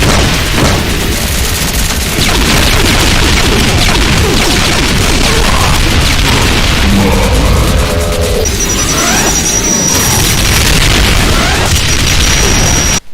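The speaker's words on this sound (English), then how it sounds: "A frenzy of bouncing Nemesis plasmatic cannonballs and Nemesis ion beams." Dense, loud barrage of plasma cannonball and ion beam blasts from a Doom mod, with booms and crashes overlapping continuously and a few sharp pops and whines cutting through the chaotic din.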